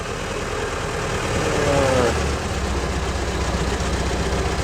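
A tractor pulling a hay baler runs in first gear, its engine a steady, loud low drone that holds continuously with a slight swell in the middle.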